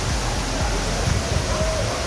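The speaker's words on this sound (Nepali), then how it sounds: "सर्लक्कै पानीको छिटा त सर्लकै आइरहेछ" Lakshinshwori waterfall in Nuwakot, a constant broadband rush of falling, splashing water, loud and close, with brief voices faintly under it.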